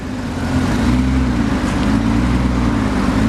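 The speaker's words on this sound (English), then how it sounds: "We'll just walk around the back so you can hear the exhaust. It is pretty quiet." A loud, low engine of a 1998 Honda Goldwing GL1500 with a Lehman trike kit idles steadily with a deep rumbling exhaust note, close by and constant, without any speech.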